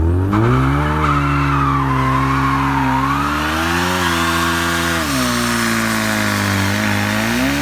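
A 2015+ Ford Mustang S550 holds a line-lock burnout, its engine roaring loud and steady at high revs while the rear tires spin and squeal, pitch wavering up and down throughout with no talk.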